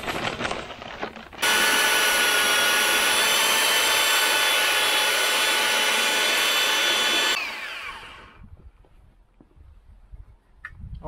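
A power drill mixer churns stampable concrete overlay mix in a bucket, with a loud, steady whine and grind for about six seconds before it cuts off to quiet scraping and small knocks.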